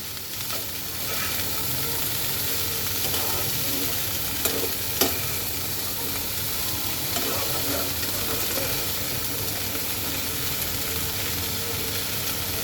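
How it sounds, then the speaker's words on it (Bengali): Vegetables and onions fry in a pan with a constant loud hiss, while a spoon gives occasional soft scrapes and taps as it stirs. "সবজিগুলো দেওয়ার পর একটু নেড়ে দেব যেন পেঁয়াজগুলি না পুড়ে যায়"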